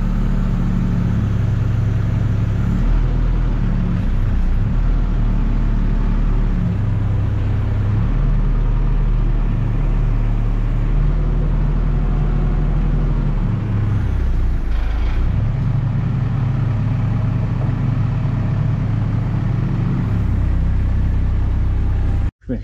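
A JCB 3CX backhoe gearbox is lowered by an HDS truck crane while a diesel engine runs nearby, a continuous close rumble with hydraulic pitch shifts and brief dips; no speech.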